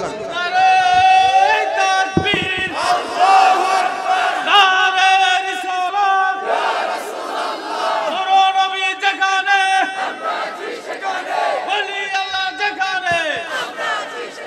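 A large crowd at an Islamic religious sermon roars a slogan in repeated loud waves of unison shouting, with a leader's voice calling between them.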